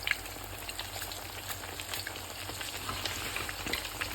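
Eggplant slices, lightly dusted with flour, fry in oil for a Sudanese eggplant and yogurt salad, giving a steady soft sizzle and crackle with faint scattered pops throughout, no talking.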